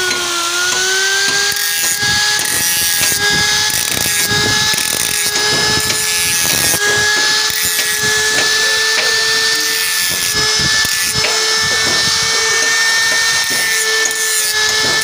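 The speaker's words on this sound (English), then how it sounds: "I'm going to use a grinder." An angle grinder works on the stripped threads of a 48 mm truck hydraulic bolt, whining loudly and continuously at close range with a rough, grating edge.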